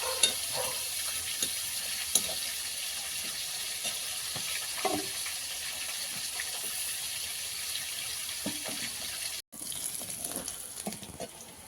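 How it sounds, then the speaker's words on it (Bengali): Small tengra fish fry in hot oil in a wok, a steady dense sizzle with faint crackles and pops running throughout, with no voices. "মাছগুলো ভেজে তুলে নিয়েছি কড়াইতে মাছটা তো ভাজতে দিয়েছিলাম মাছ ভাজা হয়ে গেছে"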